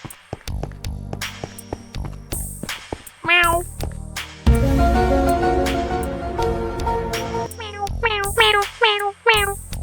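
Meowing from a cat, several short rising calls near the end after a busy stretch of music-like tones and hum; the meows come clear and fairly loud, with no talk over them.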